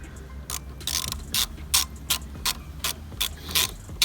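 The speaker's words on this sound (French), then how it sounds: "on prend la clé, on serre un peu celle-là" A ratchet wrench tightens the brake caliper screws on a Derbi 50cc scooter, giving about ten sharp, evenly spaced metallic clicks close up with a faint hum underneath.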